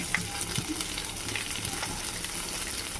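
A tempering of spices with coriander and turmeric fries in hot oil for tomato rasam, giving a continuous close sizzle with light crackles and stirring throughout.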